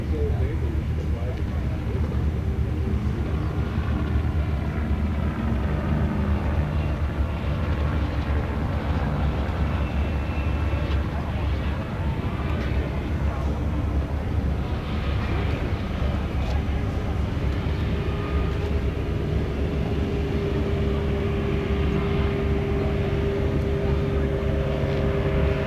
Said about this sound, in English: Truly a huge airplane.